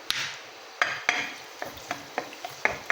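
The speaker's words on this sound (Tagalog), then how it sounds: "Igigisa muna natin yung garlic mga kabesh." Garlic is sautéed in a pan for chicken curry, with a soft oil sizzle and repeated sharp scrapes and clicks of a utensil stirring against the pan at close range.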